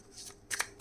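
Tarot cards riffle and slap in a few quick shuffling bursts, close and fairly quiet, ending in a sharper card snap.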